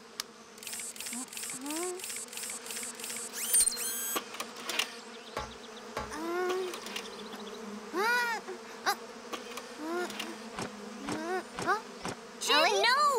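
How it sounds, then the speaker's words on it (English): Cartoon bees buzz around a nest in rapid swooping passes, loud and close, mixed with bouncy animated sound effects and light music and no talking. "Grabbing at a bee's nest is something you should never do."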